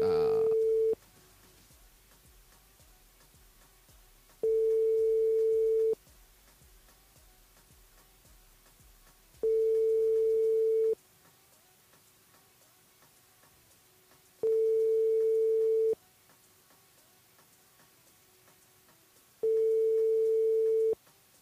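Phone call ringing through to a mobile over a telephone line, a French-style ring tone in long evenly spaced bursts with quiet hiss and gaps between each ring.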